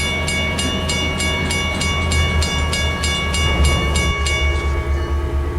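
A steam train in a video game rolls steadily along with a continuous low rumble and a regular, evenly spaced clicking rhythm from the rails, loud and close.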